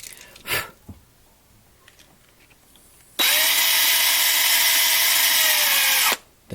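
A DeWalt 36-volt cordless drill bores out rivets on a 1/64-scale NASCAR diecast car in one loud, sustained burst of high-pitched whirring that starts and stops abruptly, preceded by a few small handling clicks.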